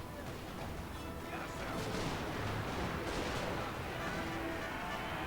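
Musket line volleys fired at militia in the video game Napoleon Total War, heard as a dense, steady roar of crackling gunfire and distant battle noise that never lets up.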